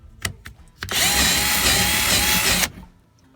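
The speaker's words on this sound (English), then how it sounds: "I'm just going to finish drilling that out." A power drill running at high speed bores out a hole with an undersized bit on a model farm build, a steady loud whine lasting under two seconds after a few short knocks and handling clatter.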